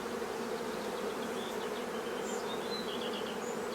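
A swarm of honeybees covering only a few frames in a hive, producing a dense, continuous buzzing hum that stays close and steady, with occasional higher individual bee whines passing over it.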